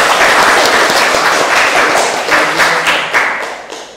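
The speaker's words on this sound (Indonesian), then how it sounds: "Kasih tepuk tangan dong KKN di Tanah Toraja." A dense burst of audience applause fills the room for a returning university student, loud and close at first, then gradually thinning and fading toward the end.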